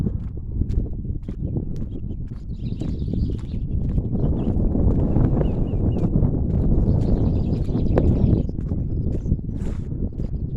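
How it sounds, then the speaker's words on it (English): Steady wind blows outdoors on a cold day, a continuous low buffeting rumble that fills the whole stretch, with faint rustling and intermittent taps layered over it and no talking. "So there is a bit of wind there."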